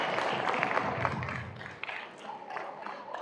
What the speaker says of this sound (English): let's give a round of applause for Dr. George.